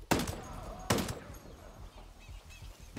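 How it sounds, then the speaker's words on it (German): Two sharp gunshots from the video game Ghost Recon, fired close and loud about a second apart, each with a brief ringing tail, followed by quiet ambient game sound. "Schuss wurde gehört."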